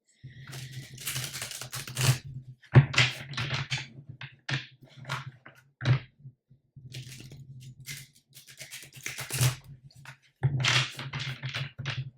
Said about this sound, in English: let me just shuffle these cards really quickly